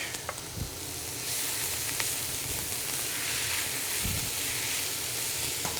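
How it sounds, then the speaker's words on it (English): Onions, garlic and fresh oregano sweating in a pan, a dense steady hiss that swells after a few quiet opening seconds, with a couple of faint knocks and no speech. "So we're gonna let that sweat, let the onions kind of give some flavor out."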